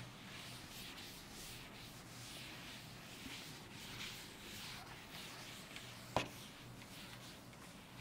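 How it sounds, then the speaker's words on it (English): A board is rubbed clean with a duster in a quiet classroom, giving a soft, steady swishing scrape for several seconds with one brief sharp knock near the end and no voices. "I am going to rub this part and we'll discuss the next one."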